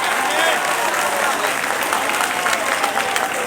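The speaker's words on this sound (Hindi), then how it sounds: "इनके लिए तो बहुत सारी तालियाँ होनी चाहिए" Applause from a mushaira audience in Jahanian, a dense, steady wash of many hands clapping that holds loud and even throughout, with some crowd noise mixed in.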